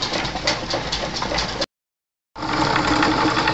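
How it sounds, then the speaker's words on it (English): A homemade rock tumbler, built with lathe and drill press work, runs with a steady rumbling mechanical whir and faint rattle, stopping for under a second before resuming at the same level. "rock tumbler."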